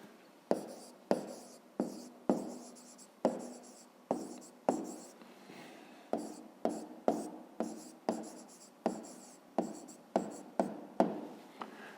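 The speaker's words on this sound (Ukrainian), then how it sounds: "зараз записуємо відповідь, пишемо відповідь" Pen writing an answer by hand on paper during a fifth-grade math exercise, a steady series of close, distinct scratchy strokes with short pauses between them, no talking.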